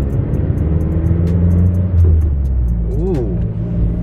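A Mazdaspeed3 fitted with a short shift plate drives on the road, its engine droning steadily with a low rumble and a brief rising rev near the end.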